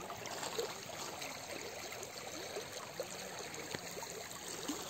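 Soft, continuous trickle and gurgle of a stream at a crossing point on a hill trek in Assam, low and even throughout with faint splashy flickers and no talk.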